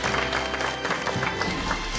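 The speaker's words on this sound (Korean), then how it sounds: "박수로 환영해 주시죠" A studio audience on a Korean television health show claps briefly to welcome two guests, a short burst of mixed, moderately loud hand claps.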